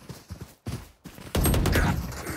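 Gunfire in Valorant comes first as a few sparse, separated shots, then turns into a louder, denser burst of rapid fire over the last second.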